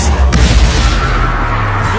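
A Bombarda blasting spell in Hogwarts Legacy on PS5 erupts in a loud, dense booming burst with heavy low rumble, continuous over the whole stretch amid other in-game combat noise and a shouting voice.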